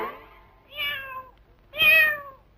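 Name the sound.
cat meowing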